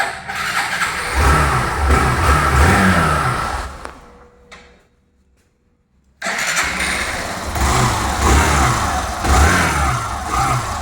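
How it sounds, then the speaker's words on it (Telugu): A 2023 Hero Glamour motorcycle engine runs loud and close with throbbing revs, cuts out into near silence for about two seconds, then restarts and keeps revving steadily. "ఒకసారి ఇంజిన్ బీటింగ్ కూడా చూడండి"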